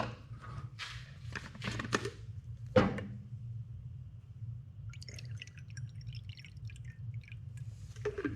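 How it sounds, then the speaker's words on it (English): Water is poured into a hollow fuel tank, with a few knocks and drips at first, then a soft, airy trickle of liquid filling it. "And now I'll add the water to it."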